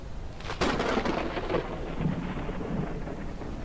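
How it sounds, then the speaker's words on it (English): Thunder from a lightning strike on an airship during a storm in the video game Forever Skies: a loud, sudden crack that swells into a broad rumble over steady rain and then slowly trails off. "We did get hit by lightning there. You can see the ship has been damaged."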